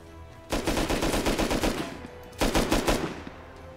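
Automatic gunfire rattles in the video game Rust: two loud rapid bursts of close shots, a longer one of about a second and a half, then a pause and a shorter burst.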